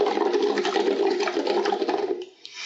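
Bubbles are blown steadily through a tube into water during a Lax Vox voice therapy exercise, a continuous close bubbling rush that stops abruptly near the end.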